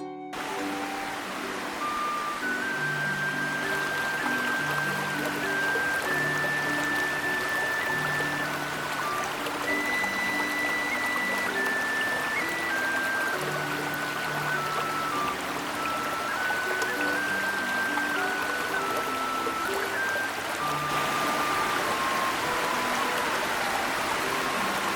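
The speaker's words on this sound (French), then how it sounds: "Dans la forêt, la rivière continue de couler. La cascade continue de chanter." A forest waterfall and river pour in a steady, hissing rush of flowing water that continues evenly throughout, beneath a soft melodic music line.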